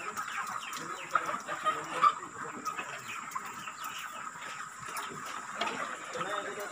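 Many broiler chickens cluck and chatter together in a crowded, busy din inside a two-tier coop, a continuous flock noise with a few sharper calls.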